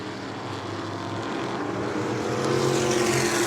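Modified race cars roar around the New Smyrna track, a loud sustained engine drone that swells as the field passes close, with no talk over it.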